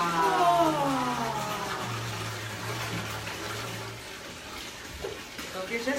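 A tap runs into a bathtub, a steady broad rush of water with a low hum beneath it, continuous and fairly close throughout.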